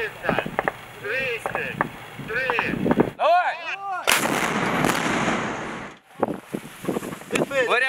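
Artillery battery fires during a military live-fire exercise in Mykolaiv region, engaging stationary tank and infantry fighting vehicle targets. One loud, booming blast with a long rumbling tail, framed by voices talking before and after.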